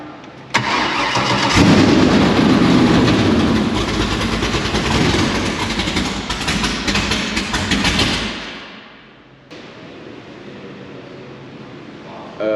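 A race car engine fires up and roars loudly for several seconds, then drops sharply to a lower idle.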